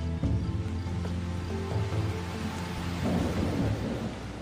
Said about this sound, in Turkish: Yağmur her zamankinden fazla yağıyor.